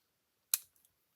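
A single sharp snip of craft scissors trimming card stock, close and crisp, followed by a couple of faint small clicks in an otherwise quiet room.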